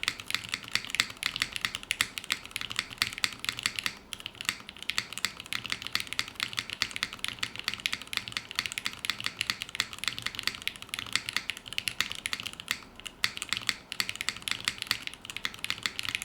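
Fast continuous typing on a polycarbonate top-mount mechanical keyboard with milky yellow keycaps and Cat B2 switches gives dense, close, bassy clacks with brief pauses and no talking.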